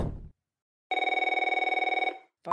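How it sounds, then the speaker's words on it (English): A telephone rings once with a single bright, fast-trilling electronic burst lasting about a second, clear and alone in near silence, followed by the start of another sharp tone. "Phone again."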